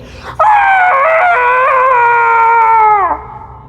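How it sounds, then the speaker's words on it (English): A man lets out a long, loud, strained scream of pain as a syringe is pushed into him, a single sustained wavering cry lasting about three seconds and ringing through a room. "The scream echoed throughout the room"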